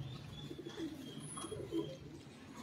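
Pigeons coo softly in a loft, a few low rolling calls over faint background chirps, fairly quiet and near.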